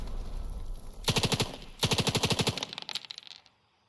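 Rapid automatic gunfire crackles in the WW2 Pacific strategy game Valour & Victory, with two sustained bursts of even, closely spaced shots followed by a few scattered pops, fairly faint and without voices.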